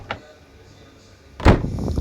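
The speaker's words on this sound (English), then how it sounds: "you need to close your doors" Cessna 172 SP door shutting in the X-Plane 10 mobile flight simulator: a soft thud near the start, then a louder, close door slam followed by lingering cabin rumble.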